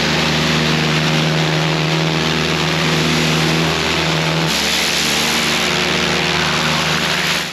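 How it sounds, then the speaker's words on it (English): A pressure washer hisses in a constant loud spray over a droning motor while it blasts the barnacle-covered hull of an old leaking boat, with no talk. "I think she needs the power washer."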